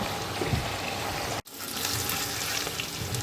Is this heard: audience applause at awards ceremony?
no